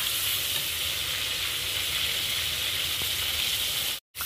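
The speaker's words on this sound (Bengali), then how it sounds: "এইভাবে অল্প অল্প করে দিয়ে আমি পটলগুলো ভেজে নেব।" Pieces of pointed gourd frying in oil in a pan, a loud continuous close sizzle that cuts out abruptly near the end.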